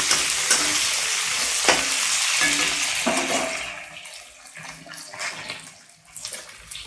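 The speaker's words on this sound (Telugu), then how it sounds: "పచ్చిమిర్చి మా సన్నగా తరిగిన క్యాప్సికమ్ కొంచెం ఫ్రై చేసుకోవాలి" Green chillies and finely chopped capsicum frying in a pan give off a loud, dense sizzle with intermittent stirring scrapes, the hiss fading and turning patchier toward the end as the stirring continues in short bursts.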